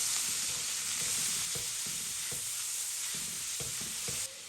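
Minced pork-style ground meat stir-frying in a hot wok after aromatics of scallion and garlic, a steady loud sizzle with rhythmic scraping strokes of the spatula throughout, no talking.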